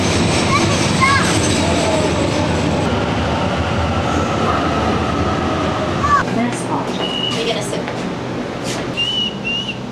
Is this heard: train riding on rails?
yes